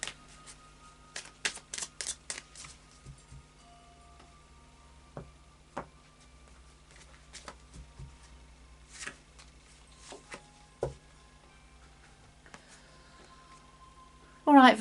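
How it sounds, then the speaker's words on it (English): Oracle cards from an Oracle of Visions deck are shuffled by hand in several short bursts of papery riffling and tapping, separated by quiet gaps and a few soft knocks. "So we'll start doing a final shuffle."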